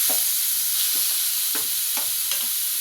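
Cauliflower going into a pan of frying chopped onion, garlic and tomato, a steady soft sizzle with several rhythmic scraping stirs of a spatula, close and alone without talk.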